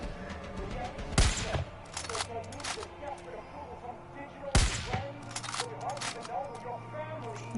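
Two loud sniper rifle shots ring out in a first-person shooter game, spaced a few seconds apart, over a busy background of game noise and someone talking.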